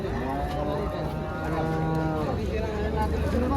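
Red Sahiwal heifer calves at a crowded cattle market, several drawn-out moos overlapping one another, close and loud against a busy background murmur.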